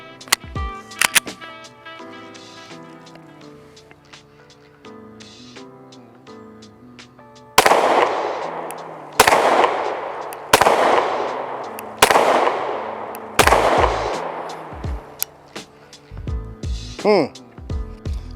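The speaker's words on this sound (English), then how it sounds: "So I'm gonna shoot this first, make sure it's zeroed in" An FN 509 Tactical pistol with a red dot sight fires about six sharp, loud shots at a steady pace during zeroing at a range, after a quieter stretch of softer sounds.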